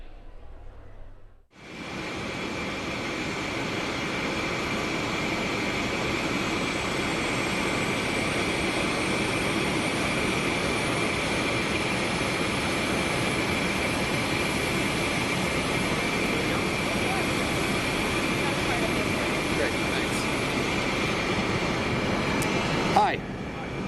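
A loud, steady jet aircraft roar fills the air near a plane before boarding, beginning abruptly and holding a constant high whine and rumble for over twenty seconds.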